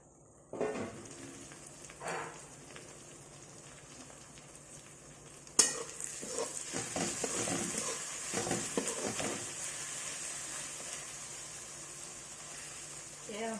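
Finely chopped tomatoes salted in a pan for pav bhaji, sizzling softly with scattered stirring and utensil scrapes, a sharper clatter midway followed by a steadier frying hiss; a voice speaks faintly at times.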